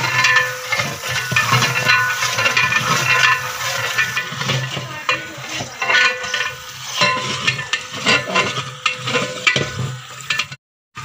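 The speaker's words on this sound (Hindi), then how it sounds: "अब हम इसको लगातार हिलाते जाएंगे, भूनेंगे इसको" Chana pilao with tomatoes and green chillies being stirred and fried in a large degh in a village kitchen, steady sizzling with scraping and clattering of the stirring ladle, loud and close.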